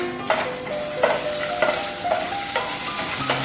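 Ginger and green chili stir-fry in a hot pan, a steady sizzle broken by about six regular scraping strokes of a spatula, close up and with no talking.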